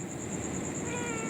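A cat meows once, close and fairly loud, in a short drawn-out call.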